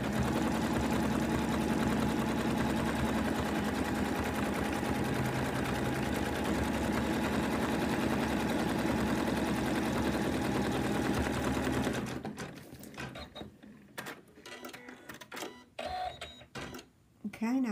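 A home embroidery machine stitches the placement outline for an appliqué lamb design, a steady fast mechanical whir running loud and continuous, then stopping abruptly partway through to leave quiet handling clicks and rustles.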